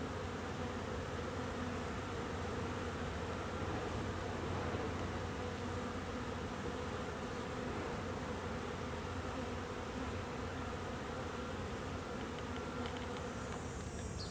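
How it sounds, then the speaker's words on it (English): Dense, steady buzzing of many bees at a hive entrance, continuous and close, with no voices. "I see bees bringing in pollen"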